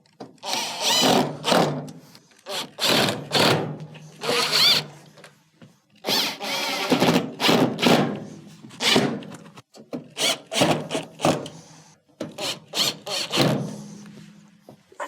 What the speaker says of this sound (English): go around the perimeter and reinstall all of your screws